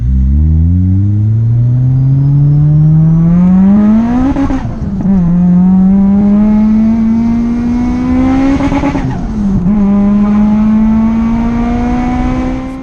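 A supercharged Toyota Celica 190 with the VVTL-i engine revving hard nearby, the pitch climbing steadily through two long pulls with a quick drop and recovery between them, loud and alone with no talk.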